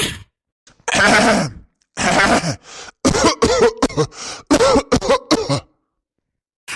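A man coughs and clears his throat repeatedly in short, harsh bursts, close by, with brief pauses between them.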